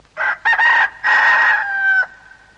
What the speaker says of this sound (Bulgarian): точно тогава се чуло кукуригане